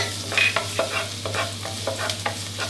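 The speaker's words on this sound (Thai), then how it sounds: "พอกระทะน้ำมันร้อนได้ที่ครับก็กระเทียมสับครับ" Chopped garlic fries in hot oil in a pan, giving a steady soft sizzle broken by scraping stirs at a quiet, moderate level.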